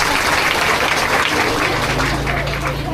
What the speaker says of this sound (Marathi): ह्या ताईंसाठी आधी एकदा जोरात टाळ्या वाजवा